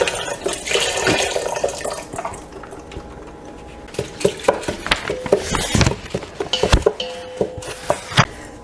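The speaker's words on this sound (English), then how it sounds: "Then just add in the 4 cups of chicken broth." Four cups of chicken broth poured over rice in a casserole dish, a splashy liquid pour mixed with clinks of the container against the dish and a series of sharp knocks toward the end.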